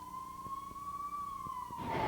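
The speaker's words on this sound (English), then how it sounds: "The sound of the siren sends their hearts racing." An emergency vehicle siren wails with a steady, slowly bending tone during a 1998 flood rescue in Carter County, heard at a distance and fairly faint, with a rush of noise swelling near the end.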